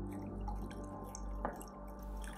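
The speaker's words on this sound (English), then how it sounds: "I'm gonna pour some green tea out of my favorite teapot." Green tea poured from a favorite teapot into a mug gives a faint, close trickle and a few soft drips over low room hum.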